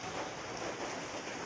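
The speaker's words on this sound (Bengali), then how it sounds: "এই মাত্র বৃষ্টি হয়ে যাচ্ছে" Steady rain pours down in a village in Assam during a storm after a spell of extreme heat, a dense, even patter that stays constant and fairly quiet throughout, with no voices.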